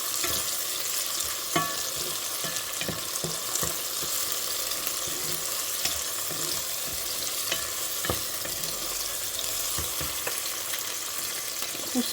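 Garlic frying in a pan for lentils with bacon and sausages, a steady close sizzle and crackle with scattered sharp taps of stirring, continuing without talk.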